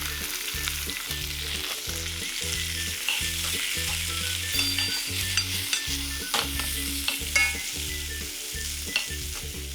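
Cucumber and nuts stir-fried in a pan for a braised side dish, giving a steady loud sizzle broken by repeated rhythmic scraping and tossing strokes, with no talking.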